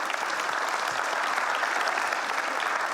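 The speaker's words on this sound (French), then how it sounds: "monsieur Jean-Marc Rose, qu'on peut saluer de quelques applaudissements s'il vous plaît." Dense, steady applause from a conference audience at an opening plenary session, a continuous wash of clapping hands filling the room without pause, with no voices standing out.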